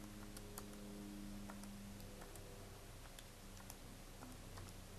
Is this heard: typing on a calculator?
yes